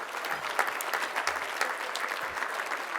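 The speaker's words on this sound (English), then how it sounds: "give a round of applause for sure" An audience at a student-athlete keynote address applauds steadily, a dense, even wash of many hands clapping at a moderate distance with no talk over it.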